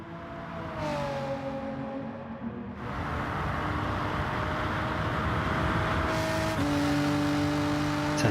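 A Renault Group 3 race car in Gran Turismo Sport roars past the trackside camera, a loud sustained engine whine that climbs and shifts pitch through gear changes, with steady engine drone throughout and no talk.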